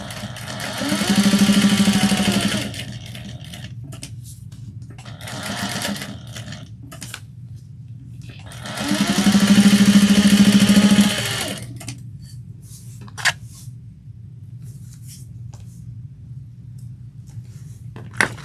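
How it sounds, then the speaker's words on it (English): Sewing machine stitching an eighth of an inch along the long edges of a fabric tote bag, two loud steady bursts of motor whir separated by quiet handling sounds. "We're going to sew 1/8 of an inch along the long edges."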